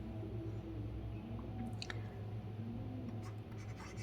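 A pen scratches out an answer on paper, quiet close strokes with a few sharper scrapes and taps over a low steady room hum, no talking.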